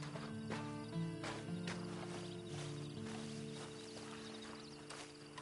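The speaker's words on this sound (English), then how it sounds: "Then you better get on this horse." Horse hooves clip-clop steadily in a quiet Red Dead Redemption 2 Online scene, with a faint ambient drone and a snort, no talking.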